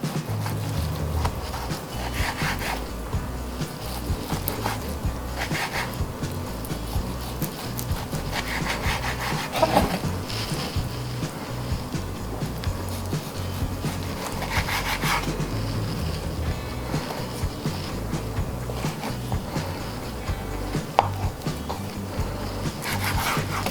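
A knife slicing beef steak into thin bite-size strips on a cutting board for fajitas, with steady scraping, rubbing cuts close up and a couple of sharper taps as the blade meets the board.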